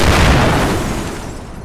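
A loud, deep boom from a bomb blast in 1947 Costa Rica fills the opening moment, then rumbles and fades over the following second.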